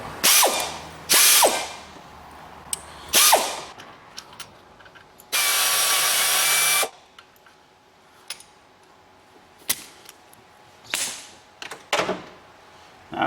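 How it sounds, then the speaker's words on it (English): A Blue Point Snap-on 3/8 drive air ratchet works on an Opel Astra's manifold bolts in a garage, giving several short bursts and one sustained two-second whir, with hand ratcheting clicks and tool clatter in between. "I'm going to use the air ratchet on again. This is a snap-on one, Blue Point snap-on, same thing, and obviously it's a 3/8 drive."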